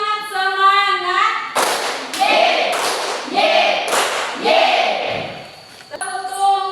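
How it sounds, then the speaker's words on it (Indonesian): Classroom of students following a teacher's clapping routine of single and double claps, heard as a series of dull, thumping group claps at a near distance, with chanting voices before and after. "Tepuk tunggal. Tepuk ganda."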